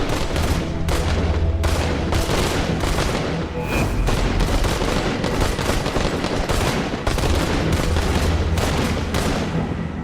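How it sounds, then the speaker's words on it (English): Rapid, sustained volley of police gunshots, dozens of sharp cracks in dense bursts with brief gaps, loud and continuous across the whole stretch like a battle. "You hear this gunfire."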